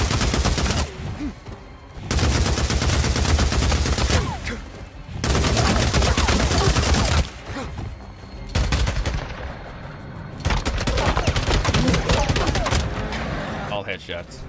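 Rapid automatic gunfire from the video game Days Gone comes in several loud, dense bursts separated by short pauses, close and harsh.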